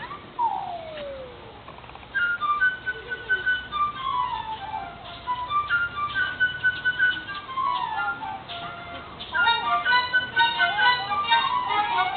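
A concert band plays the bright, flute-like melody that depicts the chirping bird in Peter and the Wolf. Quick trills and repeated high phrases run steadily for the whole passage at a moderate, even loudness.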